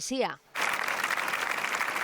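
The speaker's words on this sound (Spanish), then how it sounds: "Aplausos en Tomelloso, Ciudad Real, para recordar a Luisa" Crowd applause in Tomelloso, Ciudad Real, held in memory of a murdered woman, starts abruptly after a brief voice and continues as a steady, dense wash of clapping.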